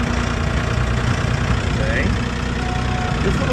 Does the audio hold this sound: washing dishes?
no